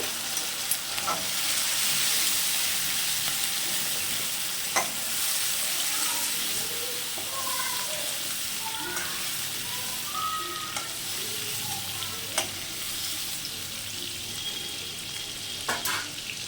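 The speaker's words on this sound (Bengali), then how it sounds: "চলো চিংড়ি মাছগুলো ভাজা হয়ে গেছে, এগুলোও তুলে নেব।" Prawns frying in a wok, a continuous close sizzle broken by sharp clinks of stirring and a few faint higher chirps in the background.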